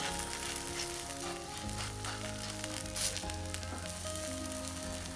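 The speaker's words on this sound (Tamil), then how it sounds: "சுற்றிலும் எண்ணெய் விட்டுக்கலாம் நல்லா வேகட்டும்" A wheat vegetable roti cooking in oil on a pan gives a close, continuous sizzle with soft crackles, steady in level throughout and free of any talk.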